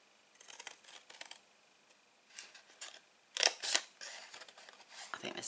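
Scissors snipping small nicks into cardstock while making a reinforced trinket gift box, several quiet, crisp cuts in short bursts, close up with a soft click on each snip.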